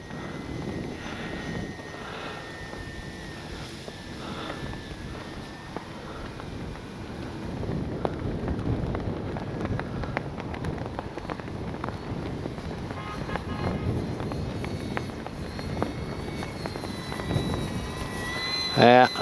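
An FMS PC-21 Pilatus RC plane flies in strong wind, its motor a steady whine under heavy wind buffeting on the microphone, with someone talking over it throughout.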